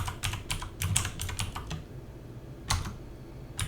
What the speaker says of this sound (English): I'm gonna type in office, capital letters